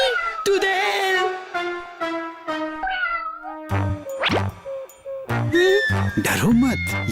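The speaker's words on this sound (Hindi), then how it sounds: "डरो मत, ये तो मेरी बिल्ली है।" A cartoon black pet cat meows loudly several times in drawn-out, wavering cries, interleaved with animated voices talking.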